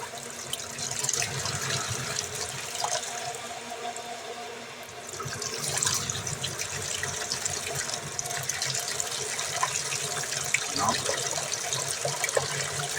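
Water gushes and sputters from a well pipe, irregular and bubbly with bursts of air, growing louder partway through; no voices are present.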